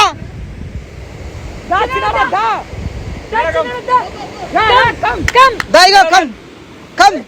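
A waterfall rushes in a steady, broad roar with gusts of wind on the microphone, heard beneath loud, lively voices of people talking and calling out nearby.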